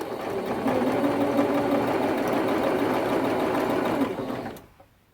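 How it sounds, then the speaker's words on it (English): A sewing machine stitches quilt binding in a fast, steady whir that runs close and loud for about four seconds and then stops. "I'm going to bring that over to the machine, and we're going to sew quarter seam top to bottom."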